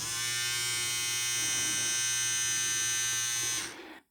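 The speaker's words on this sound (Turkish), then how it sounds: "Hemen hemen bütün tıraş makineleri aşağı yukarı bu sesi çıkarıyor." A Philips electric shaver buzzes steadily up close, a constant high-pitched whine that cuts off abruptly at the end.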